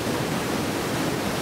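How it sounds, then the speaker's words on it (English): A 60 to 70 foot waterfall in Kenya roars as a steady, dense rush of falling water, loud and unbroken, with no voices over it. "walking around this 70 foot waterfall, 60 foot waterfall maybe"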